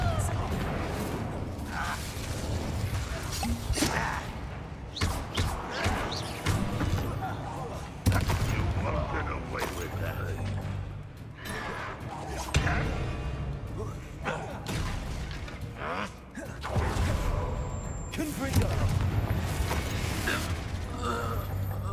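Spell combat against goblins in Hogwarts Legacy, with bursts of magical blasts, thuds and crackling impacts in quick succession under frequent spoken lines.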